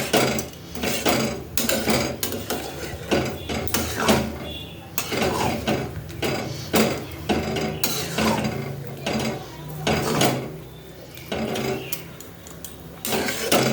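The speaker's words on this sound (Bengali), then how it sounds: "চলো মিশিয়ে দিয়েছি ভালো করে" Tomato chutney is stirred in a pan over a high gas flame, giving a continuous busy run of close metallic scraping and clinking strokes of a spoon against the pan, with no voices.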